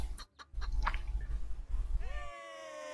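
A chicken clucks in the video game Fable Anniversary during a chicken-kicking minigame, a quick burst of squawks and thuds followed by a sustained rising cluck, fairly close and loud.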